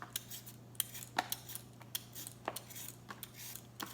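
Carrots being peeled in a home kitchen for a beef stir fry: soft, quiet scraping strokes in an irregular run of short scratches and light taps, close by, with no talking.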